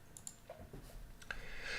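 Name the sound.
computer mouse clicking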